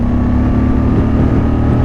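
A Moto Guzzi Stelvio motorcycle pulls hard at full throttle from 100 to 150, a loud, close, continuous engine roar with a steady droning tone and wind rush.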